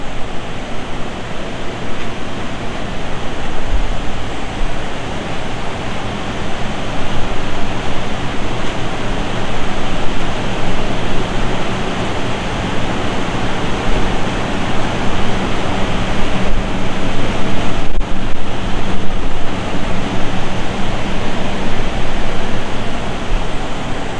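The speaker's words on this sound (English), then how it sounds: "that's pretty much what my mining farm at my condo sounds like" A dense, constant roar of cryptocurrency mining rigs and their fans in a condo hums without pause, broadband and loud, with no voices.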